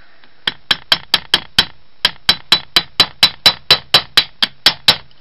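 A small hammer taps a rivet into a door lock during a repair, about twenty sharp metallic strikes in quick, slightly uneven succession, close and clear with no talk.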